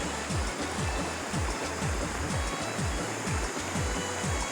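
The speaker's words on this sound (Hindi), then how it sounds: "देखिए पानी कितना साफ़ है, पत्थरों के ऊपर से बह रहा है।" Clear river water runs over stones in hill country, a steady, loud, close rushing wash with constant broadband spray and no voices.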